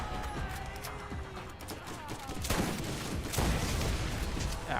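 Rocket turret fire in the video game Tiny Tina's Wonderlands, a dense barrage of bursts and crashing impacts that grows louder in the second half, with no talking.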